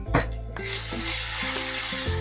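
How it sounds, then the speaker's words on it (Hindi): Onion frying in oil with garlic and ginger on a low flame, a steady close sizzle after an opening clatter, with faint tonal hum and scraping stirs running underneath. "अनियन को तब तक भूनेंगे जब तक कि वो गोल्डन ब्राउन ना हो जाए और ऑयल ना छोड़े।"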